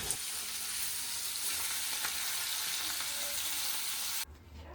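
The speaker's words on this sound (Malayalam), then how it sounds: "മീൻ്റെ മുട്ടയും കൂടെ വറക്കണം" Fish roe fries in hot oil with a loud, continuous hissing sizzle that holds steady and then cuts off abruptly near the end.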